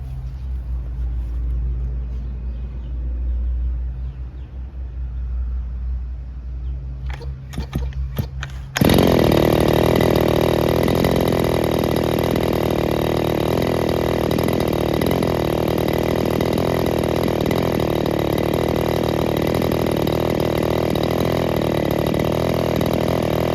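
After a quiet stretch with a few clicks and rattles, a freshly assembled Robin NB411 engine bursts into life and runs loud and steady nearby, a buzzing high-revving drone that holds to the end.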